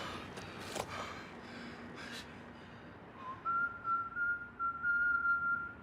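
A character in the TV crime drama The Wire whistles a short, clear tune, heard faintly after some quiet background noise and breathy sounds.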